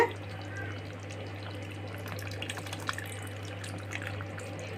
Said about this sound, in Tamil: கத்திரிக்காய் வெந்த உடனே புளி ஊற்றுங்க.